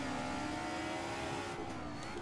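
A four-cylinder DTM race car engine in the sim racing game Assetto Corsa at Singen, revving high and steady as a loud, continuous whine with no talk.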